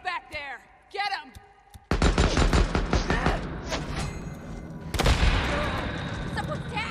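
Gunfire erupts in the zombie-apocalypse game Days Gone, a dense, loud burst of shots after a few seconds of speech, with a second heavy volley partway through and voices shouting over it.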